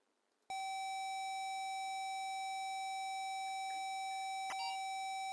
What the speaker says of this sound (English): So that's the tone that precedes the recording